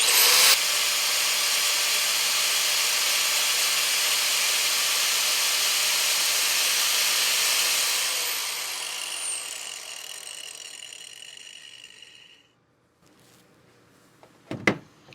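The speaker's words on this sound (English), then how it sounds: "this grinder, I know is roughly 600. So let's see if that'll shut it down" An electric angle grinder runs off a Bluetti AC180 portable power station, whining loud and steady for several seconds before spinning down and fading, then a brief clunk near the end.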